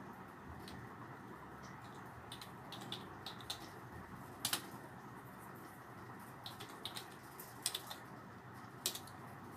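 Soft, sparse keystrokes on a computer keyboard as Python code is typed, faint and irregular with scattered louder taps against a quiet hum.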